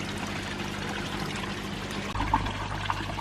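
Pond water being agitated and aerated during hot weather, a steady close rush of pouring, splashing water that runs on without pause and grows slightly fuller partway through.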